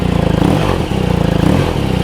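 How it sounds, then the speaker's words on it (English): A 2017 BMW R nineT Racer motorcycle engine revs loudly at close range, a steady rumbling idle rising and pulsing through repeated throttle blips with no talking. "And watch when I rev this, watch the bike."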